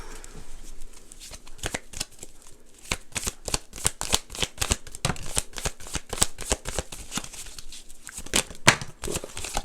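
Cards are shuffled repeatedly up close, producing rapid crisp riffling bursts in quick succession with brief pauses between shuffles.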